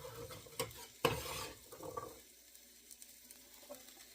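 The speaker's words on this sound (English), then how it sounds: "now I'm going to put in the butternut squash" Butternut squash pieces dropped and stirred into a tagine for Moroccan lamb stew, a few sharp clattering knocks and scrapes up close, then quieter shuffling.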